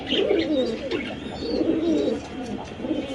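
Pigeons coo nearby in continuous, rolling throaty calls, several birds overlapping, with faint higher chirps behind them.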